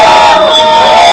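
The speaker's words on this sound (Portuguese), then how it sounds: "Ao sair da universidade, o professor Genésio foi vaiado por alguns estudantes." A crowd of students boos Professor Genésio as he leaves the university, a loud, dense burst of massed jeering voices that lasts about a second, then cuts off.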